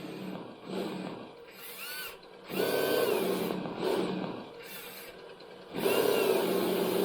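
A whining electric motor hums in uneven bursts, rising and falling with a mechanical grind, as a radio-controlled car's sound system plays its reversing sound, starting and stopping several times close by.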